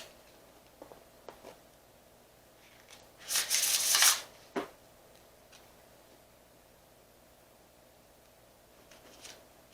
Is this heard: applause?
no